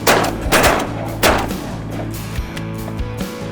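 Shotguns fire at a duck on a hunt: a couple of sharp blasts close together near the start, then a fainter thump, with outdoor rumble between.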